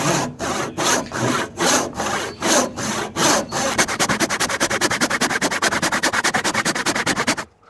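A coping saw cuts through a wooden tenon joint with close, raspy strokes, first slow and evenly spaced, then quickening into a fast, steady run of short strokes before it stops abruptly.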